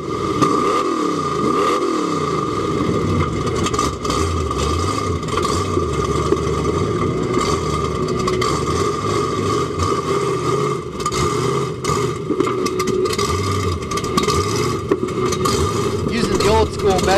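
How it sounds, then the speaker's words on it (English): A Chevy off-road 4x4 truck engine struggles to keep running, sputtering and revving with clattering bursts, a continuous rough mechanical drone throughout. "Sounds like Romanini's having a little bit of trouble keeping the Livewire Chevy running today."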